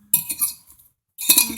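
A large soup spoon clinks against a pot while stirring chopped mirepoix vegetables for chicken stew, two bursts of bright metallic scraping and clinking with a brief quiet gap between them.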